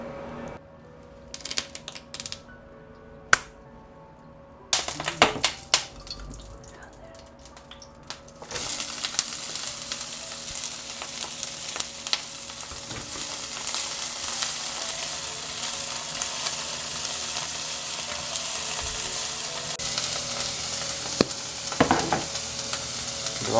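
Bean sprouts stir-fried over high heat in a home kitchen: a few sharp clatters and quiet handling sounds at first, then a loud continuous sizzle with occasional utensil scrapes for the remainder.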